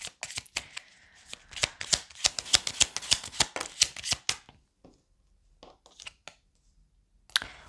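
Cards are riffled and shuffled in a rapid run of crisp snaps, then a few scattered flicks and taps after a short pause.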